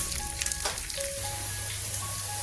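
Onion, green chilies and curry leaves sizzle steadily in a hot pan for a Malayalam-style curry tempering, a soft continuous frying hiss with faint crackles, no voices.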